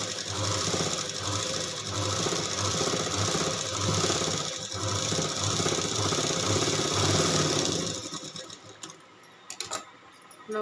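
A sewing machine stitches an embroidered blouse in a rapid continuous mechanical whir with rhythmic clatter, steady and close, easing off and stopping near the end.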